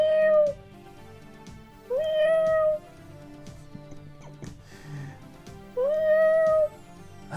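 A man imitates a cat with three drawn-out meows, each rising then falling in pitch and spaced a couple of seconds apart, loud and close against a quiet indoor background.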